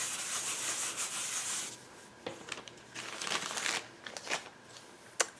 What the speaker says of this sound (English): I'm just going to rub this down with my embossing buddy.